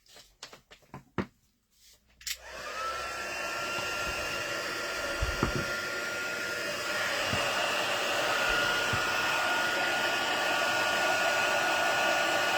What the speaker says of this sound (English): now I just need to warm the heat gun up